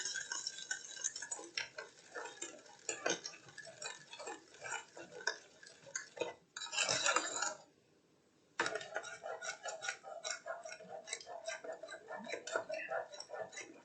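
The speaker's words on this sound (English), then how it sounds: "You're going to stir that in." A spoon stirs homemade caramel sauce in a pot, making faint, irregular ticking scrapes against the metal that continue steadily, with a brief louder rush partway through.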